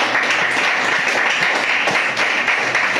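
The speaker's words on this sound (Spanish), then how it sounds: "Démosle un aplauso al Señor poderoso." Congregation applauding during a church service, a continuous dense wash of clapping throughout with no speech over it.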